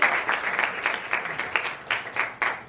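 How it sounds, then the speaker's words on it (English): An audience at a Juneteenth poetry anniversary celebration gives another round of applause, steady dense clapping from a crowd with a few sharper accents, continuous and fairly close, no talking over it. "give Keith another round of applause"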